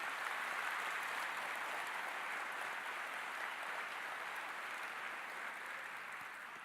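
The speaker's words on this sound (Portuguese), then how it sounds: "Pode aplaudir." Sustained applause from a church congregation fills the space steadily and evenly from start to finish, a dense wash of many hands clapping at moderate distance with no voices standing out.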